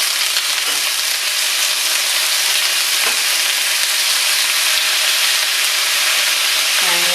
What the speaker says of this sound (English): So I've got a large skillet set over medium-high heat with a little bit of olive oil in it.